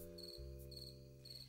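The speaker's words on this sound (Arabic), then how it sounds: "مالك سمعاني صوت الصرصور؟" Cricket chirping indoors at home: three evenly spaced bursts of shrill chirping over a low steady hum, fairly faint and with no talking.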